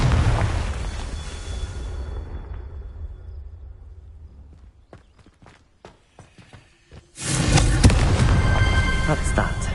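A loud blast from a Confringo spell hits at the start and fades out slowly, followed by scattered sharp knocks and thumps, then a second heavy rumbling burst begins around seven seconds and holds steady to the end.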